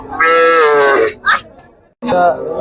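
A cow moos loudly and close by in a long, drawn-out call, followed by a short grunt and a second moo, at the Gabtoli cattle market.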